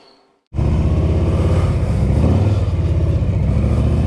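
A Harley-Davidson Road Glide motorcycle engine bursts to life after a brief quiet moment, then rumbles loud and close in a steady, throbbing idle with slight swells in revs.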